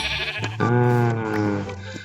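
A sheep in Minecraft bleats in one clear, sustained wavering call at close range, with a short lead-in before it and no talk.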